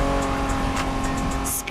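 A 1990s Honda NSX engine drones steadily while driving in Crew Motorfest, a close, sustained tonal hum with faint ticking accents and no speech.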